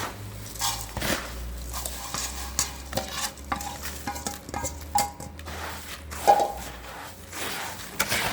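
Puffed-rice chevdo being stirred in a pan with curry leaves and spices, a steady scraping and rustling of the spoon through the dry mixture with faint sizzling, close and continuous.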